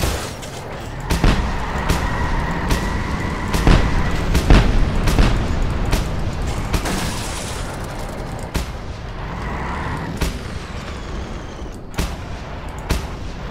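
Explosions in Just Cause 2 multiplayer: repeated sharp booms go off every second or so over a loud, rumbling wash of game noise.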